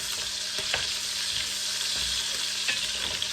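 Pork pieces frying in a hot pan for fried pork sinigang, giving a steady dense sizzle with scattered sharper pops and spatters throughout.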